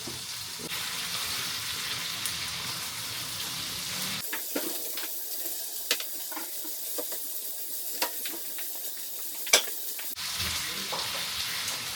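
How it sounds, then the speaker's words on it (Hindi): Marinated chicken frying in a home kitchen pan, a continuous moderate sizzle with scattered pops and crackles; the hiss briefly thins in the middle before returning fuller. "चलिए फ्राई हो रहा है चिकन"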